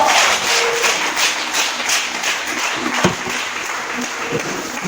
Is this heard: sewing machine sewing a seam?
no